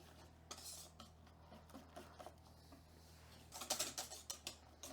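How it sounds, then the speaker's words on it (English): Pancake batter for Finnish pannukakku whisked in a container: quiet scraping and tapping strokes of a whisk against the sides, sparse at first, then quicker and louder near the end, with no talk. "we'll just whisk this all up"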